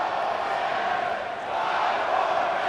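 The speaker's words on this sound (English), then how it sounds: "the crowd just yelling and hollering" Wrestling crowd at a live show on a military base, yelling and hollering in a steady, dense roar of many voices with no breaks throughout.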